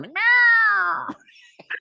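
A person imitates a cat with one long, drawn-out meow, close and clear, followed by a few faint mouth sounds.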